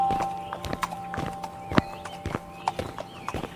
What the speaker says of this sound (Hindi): दोनों अपने अपने घोड़े पर सवार होकर जंगल की ओर चल देते हैं।